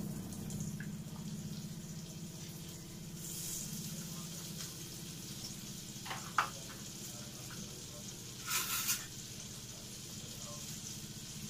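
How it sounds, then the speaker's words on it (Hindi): Butter melting and sizzling in a pan on a gas stove, a soft steady crackle with a few sharper pops and clinks near the end; no one speaks. "अब मैं इसमें बटर डाल रही हूँ।"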